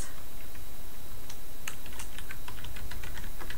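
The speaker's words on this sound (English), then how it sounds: "And then I will start typing my text." Someone types on a computer keyboard in a run of quick, irregular key clicks that grow busier midway, close and clear over a steady background hiss.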